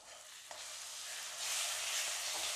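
A tomato sauce mixture sizzles and bubbles in a pan while being stirred, a steady hissing fry that swells louder midway, with no talk.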